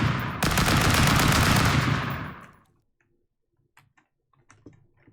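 Rapid automatic gunfire in the video game Landfall bursts loudly for about two seconds, then cuts off, leaving a few faint clicks and small game sounds.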